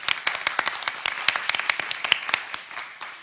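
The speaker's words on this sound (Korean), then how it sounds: "뜨거운 박수 부탁드리겠습니다" An audience at an award lecture event in Korea claps for two discussion participants, a moderately sized crowd whose individual hand claps stand out as sharp, uneven bursts that soften toward the end.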